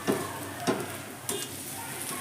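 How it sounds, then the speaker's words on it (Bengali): Potatoes frying in oil in a wok, a continuous close sizzle broken by three distinct scrapes of a spatula stirring, with no speech. "আলুটা আমার খুব সুন্দর করে ভাজা হয়ে গেছে একদম কড়াইয়ের মধ্যে"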